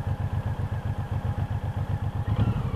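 A Suzuki Intruder muscle bike's engine runs up close in steady, even thumping pulses, swelling slightly louder near the end as the throttle opens. No one talks over it.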